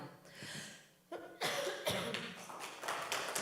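A single person coughs several times in quick succession at a parent workshop, the harsh bursts fairly close and loud with brief gaps between them and no speech over them.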